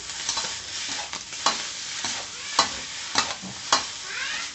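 Instant noodles and beef stir-fried in a pan, with a steady close sizzle broken by sharp utensil scrapes and clatters about every half second to second.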